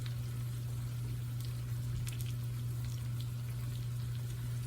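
Thin potato slices for potatoes Anna cooking in butter in a pan on the stove, a faint steady sizzle with soft crackles over a constant low hum.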